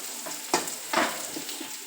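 Garlic sizzles as it goes into a hot pan for pithla. A steady frying hiss runs throughout, broken by two louder bursts of crackling as it is stirred.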